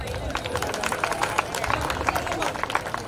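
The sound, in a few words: audience clapping to approve a resolution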